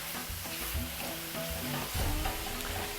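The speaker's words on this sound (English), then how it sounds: "So while our chicken sizzles away here in the pan" Chicken frying in a hot pan for biryani, a continuous close sizzle with crackles and stirring scrapes, no voices.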